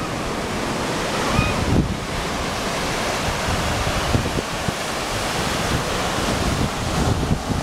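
Big ocean waves breaking on a Hawaii shore, a continuous broad wash of surf with bursts of wind buffeting the microphone, loud and close with no talking.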